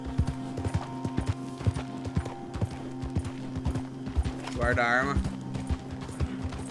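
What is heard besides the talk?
horse galloping in video game Red Dead Redemption 2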